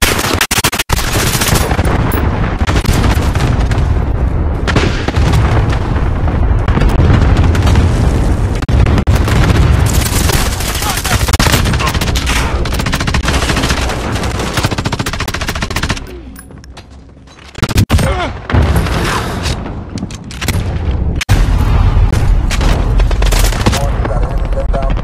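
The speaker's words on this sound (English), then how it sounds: "Allied cruise missile on the way." Explosions and heavy gunfire in Call of Duty Modern Warfare, where a cruise missile strike lands amid near-continuous loud booms and rattling automatic fire, briefly dropping off before the blasts resume.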